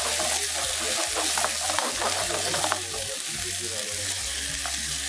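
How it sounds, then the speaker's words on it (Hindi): Chicken with spices fries in a pan in a steady, loud broadband sizzle, with scattered crackles and a low background hum throughout. "और खूब अच्छे से इसको भून लेना है"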